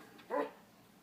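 Deuce the dog barking up in a window, one short, faint bark against a quiet background.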